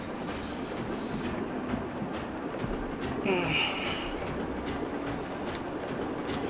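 A train rolls along in Zelda: Tears of the Kingdom with a steady rumbling clatter of wheels on track, one brighter screech midway, and faint voices in the background.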